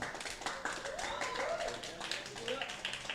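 An audience at a literary discussion event in Sumenep claps in scattered, light applause while a speaker's voice carries on over it.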